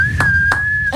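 A single steady, high whistled tone holds throughout, with faint breathy puffs breaking in at intervals.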